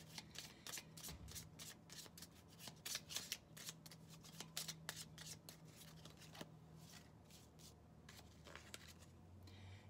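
A deck of success cards is shuffled in quick, crisp riffles and flicks, close but faint. The brisk rhythm runs steadily for about ten seconds, then slows near the end.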